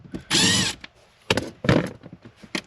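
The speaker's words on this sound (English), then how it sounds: "They're both Torx. All right, we're gonna undo these." A power driver undoes Torx T20 screws on a Ford Fiesta ST panel, with a loud half-second whir followed by shorter bursts and clicks of the tool and screws, close and without talk.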